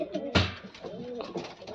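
Pigeons in a loft give a brief burst of close, soft, throaty cooing with a few rolling notes.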